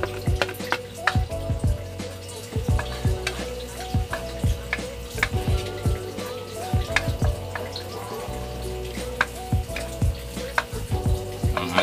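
Garlic sautéing in a hot pan during a home cooking lesson for spicy mixed vegetables, a steady sizzle broken by repeated scraping stirs from a utensil, close and fairly loud, with no talking.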